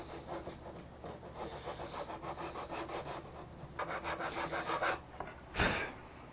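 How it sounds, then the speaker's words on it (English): Small triangular needle rasp filing into a corner of a wooden electric guitar neck near the nut, steady scraping strokes close up, with a brief sharper knock near the end. "now this is a good chance for me to use my new little karate triangle needle rasp to get down in that corner"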